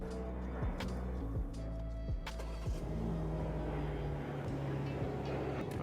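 A BMW G80 M3 engine idles steadily with a low, even rumble and faint harmonic hum, a few sharp clicks and knocks standing out above it.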